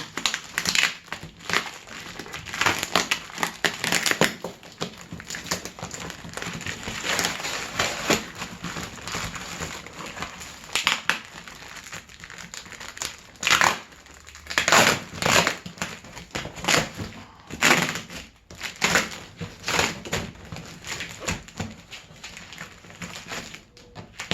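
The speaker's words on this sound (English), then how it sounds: "We'll just open up the side of the box." A cardboard box holding motorcycle exhaust parts for a 1981 Yamaha XS850 Special is torn open along its side, with loud close crunching, ripping and crinkling in irregular bursts that keep going for over twenty seconds.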